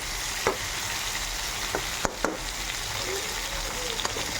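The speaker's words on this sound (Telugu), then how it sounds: "చూడండి, బెండకాయలు బాగా ఎర్రగా వచ్చేంత వరకు వేయించుకోవాలి." Okra sizzles steadily in a pan while frying until browned for a village-style curry, a continuous close hiss broken by a few sharp scrapes of a spoon stirring, no talking.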